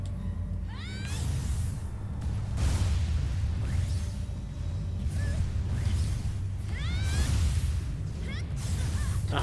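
Meows from Dusty, the black cat in the video game Gravity Rush, rise and fall in several short bursts over a steady rumbling game soundtrack.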